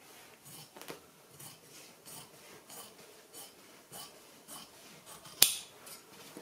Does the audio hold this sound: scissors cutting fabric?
yes